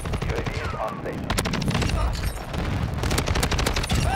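Rapid bursts of automatic gunfire from Call of Duty Modern Warfare 2 crackle densely and loudly throughout, with repeated shots and a player's voice talking over the firefight.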